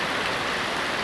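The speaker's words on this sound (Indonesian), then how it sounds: "Itu lihat, ya, hujan kan, ya, hujan yang membawa berkah" Steady rain pours down on a wet Tuesday afternoon, a dense, even hiss of drops close by that continues unbroken throughout, with no voices.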